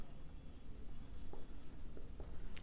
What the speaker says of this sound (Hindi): यहाँ पे लिखते हैं बिल्डिंग